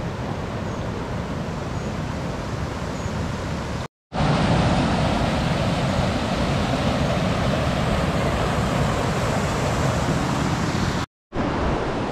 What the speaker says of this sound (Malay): air mengalir. Dekat sungai.